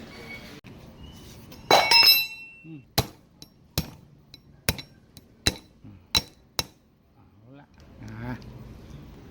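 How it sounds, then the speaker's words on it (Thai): Sharp metallic hammer blows knock out part of the oscillation motor of a HATARI electric fan under repair, about eight distinct strikes in an irregular rhythm, close and loud, with a voice talking in between. "เดี๋ยวเราตอกออกเลยนะ ตอกออกเลย"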